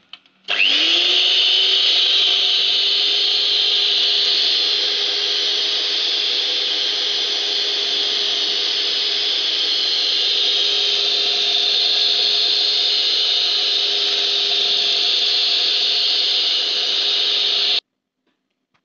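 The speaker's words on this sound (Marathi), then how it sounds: "आता पुन्हा हे बीटरने एकसारखं करून घेऊया." An electric hand beater whirs steadily for about seventeen seconds, a loud continuous motor drone as it mixes chilled homemade butterscotch ice cream base, starting abruptly and cutting off near the end with no talking.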